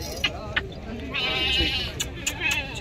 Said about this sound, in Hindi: ये बकरी है इनके नीचे दो बकरे हैं